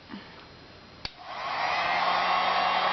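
After a click, an embossing heat tool starts and blows a steady, rising whoosh close by while melting embossing powder on a scrapbook image, with no voices.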